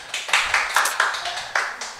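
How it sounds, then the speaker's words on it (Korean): Church congregation clapping during a service, short bursts of claps arriving in an uneven rhythm, fairly close, with no talk over them. "늦게 왔다고 박수 쳐주는 교회는 우리 교회밖에 없을 겁니다."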